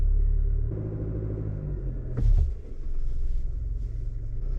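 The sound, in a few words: Chevrolet ZR2 truck slowly driving over a mound of dirt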